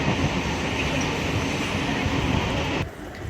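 A Bengal local train running from Burdwan toward Masagram rumbles steadily from inside a carriage with a constant loud roar, briefly easing near the end, while a voice talks over it.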